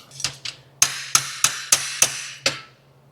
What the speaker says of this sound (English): so we're going to tap it in.